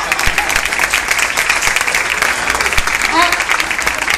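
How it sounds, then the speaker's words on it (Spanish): An audience at a couples' workshop applauds for the woman, a steady busy clapping with occasional crowd voices mixed in, fairly loud and close throughout. "Un aplauso para la mujer."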